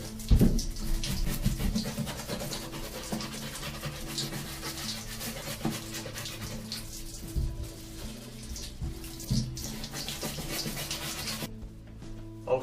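Running water and scrubbing on the soles of Altberg Defender leather boots, a steady close wash of splashing and brushing that continues almost unbroken, with a brief thud near the start.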